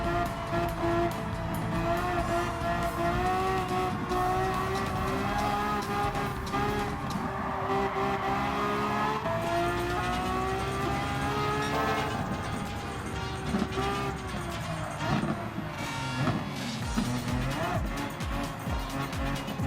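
Racing cars in the Gran Turismo 7 video game, engines droning and shifting pitch continuously as the cars run bumper to bumper, with engine tones rising and falling throughout.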